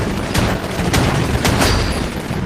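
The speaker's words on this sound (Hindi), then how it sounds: "मैं यहाँ ऊपर हूँ, सबको शॉटगन से उड़ा रहा हूँ।" Repeated shotgun blasts boom loudly in a chaotic video game firefight, several sharp reports layered over continuous rumbling gunfire.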